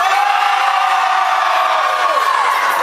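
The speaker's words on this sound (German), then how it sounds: "ihr schreit jetzt ganz laut" A live audience at a Pokemon Party 2011 stage show shouts and cheers loudly right after a countdown. The crowd roar is dense and sustained, made of many whooping voices, some of them children, and it holds at full volume throughout.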